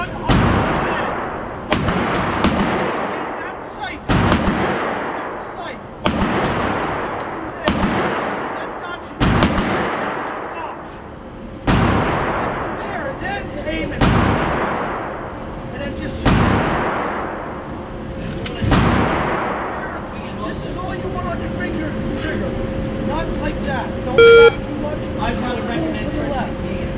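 Handgun shots crack out one at a time at a steady pace during defensive shooting drills at an outdoor range, about a dozen loud reports over mixed talk and background range noise.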